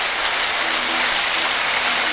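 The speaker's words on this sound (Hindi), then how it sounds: "दोनों हाथ उठा करके एक बार निजी सिलीगुड़ी के लोगों के लिए आप ताली बजाइए, इन श्रोताओं के लिए" An audience at a Bhagwat Katha in Siliguri claps together, a steady, dense wash of applause that fills the whole moment without letting up.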